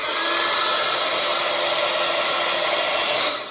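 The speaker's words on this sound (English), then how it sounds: "So I'm going to get my heat gun and heat it up." A heat gun blows hot air over an embossed card, a steady, loud whooshing hiss running unbroken and close, with no talk over it.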